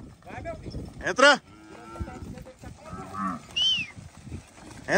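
Cattle, calves among them, on a Nelore cattle farm moo loudly and repeatedly while being herded into a pen, mixed with shouts from handlers and other close animal calls.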